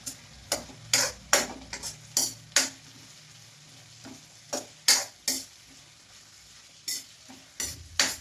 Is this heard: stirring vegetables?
yes